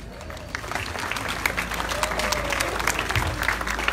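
A crowd claps steadily throughout, dense and close, with a voice or two faintly rising above the applause.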